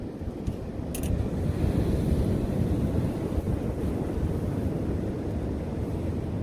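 Strong wind buffets the microphone continuously while sea fishing on the UK coast with an umbrella shelter tied down, a loud steady low roar with gusting rumble and no talk.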